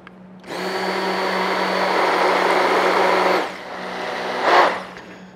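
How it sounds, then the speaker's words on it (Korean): A hand blender mixing colouring into cocoa butter, a loud steady motor whir starting abruptly, dipping briefly as it is moved, then surging again before cutting off, with no voices over it. "그래서 이렇게 블렌더 넣으셔가지고"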